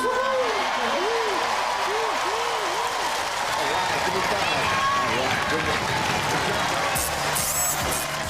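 Studio audience at Robot Wars applauding the Roboteers, a loud, dense, continuous roar of clapping and crowd noise with rising and falling tonal whoops mixed in throughout.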